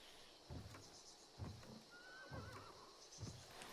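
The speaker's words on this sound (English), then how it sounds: "So, we just heard a horse whinny." A horse whinnies in the video game Hunt: Showdown, a thin rising-and-falling neigh at moderate distance over a dull periodic thudding of hoof-like footsteps and steady background ambience.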